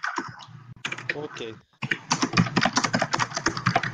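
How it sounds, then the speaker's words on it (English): A loud computer keyboard clatters with rapid, dense typing in a voice chat, the clicks mixed in with people talking over each other. "Boy, that's a nice loud keyboard, bro."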